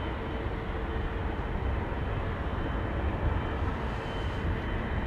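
An Eva Air Boeing 787-9 Dreamliner bound for Taipei roars at DFW Airport as a broad, steady jet rumble, loud and continuous throughout, with no voices.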